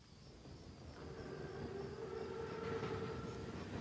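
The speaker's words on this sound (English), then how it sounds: "Train's right on time." An armored Panzerzug train in the World War II video game Call of Duty WW2 rumbles steadily at a distance, with a sustained horn-like tone rising over the rolling noise.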